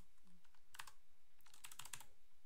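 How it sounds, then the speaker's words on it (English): Short bursts of keystrokes on a computer keyboard as a command is typed into a terminal, quick clicky taps in two clusters separated by a brief pause, close and quiet with no talk. "what I should be able to do is over here type in IPA or ifconfig"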